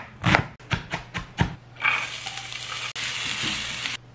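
Onions hitting a hot pan for sautéing, a few sharp clatters and stirs giving way to a loud, steady sizzle that holds close and continuous, briefly dipping once before resuming.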